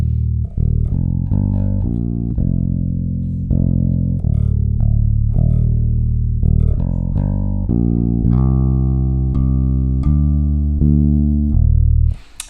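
Bass guitar plays the chorus line of a worship song, a steady run of sustained, clearly articulated notes with pitch shifts, close and loud, no talking.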